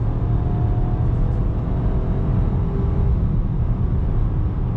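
A 2020 Buick Encore GX small SUV accelerating under throttle, heard from inside the cabin as a steady low engine and road rumble that holds constant, with no talking.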